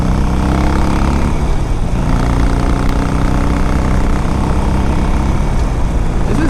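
A 2006 Harley Davidson 883 Sportster cruising at highway speed, a steady low engine drone mixed with heavy wind rush, loud and continuous with no break.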